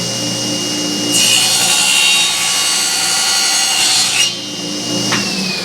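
A power saw making a test cut in wood while installing a camp door, a loud steady rasping whine lasting about three seconds before cutting off, with no talking.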